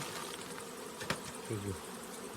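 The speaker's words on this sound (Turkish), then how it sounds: "Bu da bir kara kovan." Bees buzzing around a black beehive, a steady, fairly quiet hum of several insects close by, with one brief louder pass partway through.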